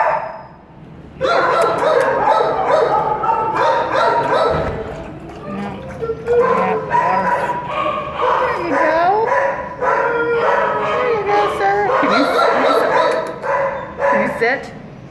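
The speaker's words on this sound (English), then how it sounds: "Beautiful dog." A roughly year-old dog at an animal shelter barks and yips excitedly in bursts, close and loud, with a few whimpering squeals, while people talk over it.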